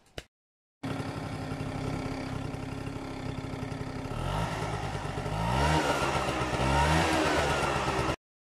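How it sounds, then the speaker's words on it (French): An engine is revved through its old original exhaust pipe, a steady idle that climbs into several rising and falling revs, loud and close after a brief silence, with no talk. "je vais vous mettre tout simplement un extrait de mon ancien pot"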